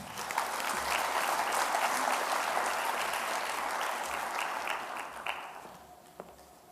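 A large conference audience applauds to welcome keynote speaker Michael O'Connell, Commissioner for Victims' Rights: dense, sustained clapping holds steady for several seconds, then thins and fades out toward the end.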